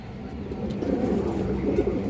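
A pigeon coos softly at moderate distance, low repeated burbling notes over light background noise.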